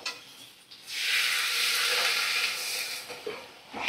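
Water poured into a hot pan of frying spices for yellow pea ghugni, setting off a sudden loud hissing sizzle that holds steady for a few seconds and then eases, close up with no talk.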